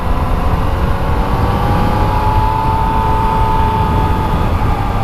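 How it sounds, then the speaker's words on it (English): A brand new 2016 Yamaha XSR900 motorcycle riding on open roads, its engine a loud, steady drone with a slowly rising tone under constant wind rush, no voices. "I am riding a brand new Yamaha XSR900 through gorgeous roads and enjoying the heck out of it."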